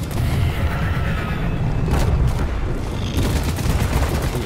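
Steady gunfire from the video game Deep Rock Galactic, a dense rolling barrage of shots and booms that fills the clip at close range with no pauses, mixed with heavy low rumble.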